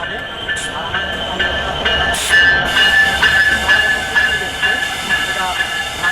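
An inaugural special train sits at a station platform, decorated for its opening run; a steady hiss and rail machinery hum continue with repeated metallic pulses and a few sharper clanks.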